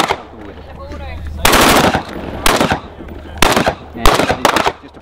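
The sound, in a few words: Australian military assault rifle gunfire at shooting range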